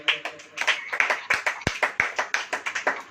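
Congregation clapping hands in a church service, a close, steady rhythmic beat of sharp claps, about five per second, with little else heard.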